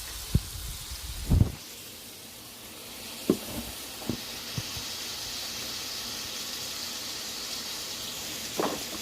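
Shrimp sizzling in a skillet on a gas stove, a steady close bright hiss holding throughout, broken by a few clanks and stirs of a utensil near the start and again toward the end.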